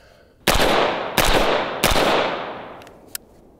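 An AR-15 rifle with a 20-round magazine fires three loud, sharp shots at a steady pace, each ringing out with a long echo, then a fainter fourth crack follows.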